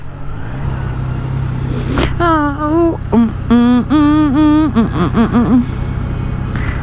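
A Triumph Trident 660 motorcycle engine revs while riding, rising and falling in pitch in several strong surges from about two seconds on, over a steady low hum, with a brief voice at one point.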